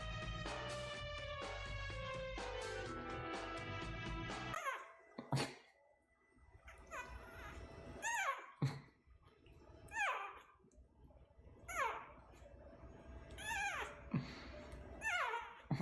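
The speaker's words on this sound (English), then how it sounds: "Small dog." A small dog gives several short yips and whimpers in a quiet room, following a loud stretch of music, with the squeaky barks spaced irregularly and fairly close.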